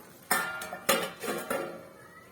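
Metal pan lid clanks onto a pot of simmering cabbage curry, four distinct clinks and rattles spaced roughly half a second apart, close and fairly crisp.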